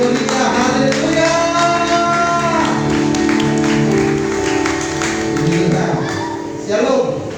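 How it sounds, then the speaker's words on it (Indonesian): A church congregation at a Sunday service in Waisai, Raja Ampat, claps and cheers loudly and continuously, with sustained music and singing tones running through the crowd noise. "beri tepuk tangan yang meriah"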